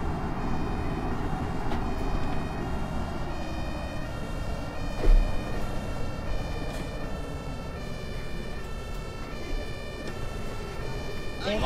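An emergency vehicle siren in the bus simulator game OMSI 2, wailing steadily through the whole stretch over engine and road noise, with a person talking intermittently.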